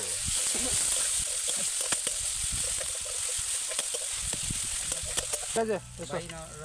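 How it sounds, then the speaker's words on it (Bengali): Green chilies sizzle steadily in a hot pan for pasta cooked outdoors in a field, with a spoon scraping and stirring in irregular knocks; a voice briefly speaks near the end. "কাঁচা লঙ্কা দিয়ে এবার নাড়ব"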